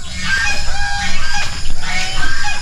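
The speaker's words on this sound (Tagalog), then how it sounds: "So, ito naman yung mga uh, manok." Chickens on a Filipino farm, with a rooster among them, cluck and chirp continuously at close range, a dense overlapping chorus with scattered higher calls and no talking.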